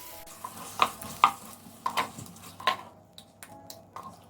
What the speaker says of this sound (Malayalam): ഇനി ഇതൊന്ന് നന്നായിട്ട് മിക്സ് ചെയ്തിട്ട് ഒരു 5 മിനിറ്റ് നേരം വഴറ്റിയെടുക്കാം.